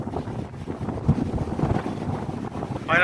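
Strong wind by the sea in Kuwait buffets the microphone in a steady, rough roar, with a brief sharper sound near the end and no talking.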